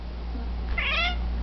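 A pet cat gives a single short, clear meow right after a person's sneeze, close and distinct over a low steady hum.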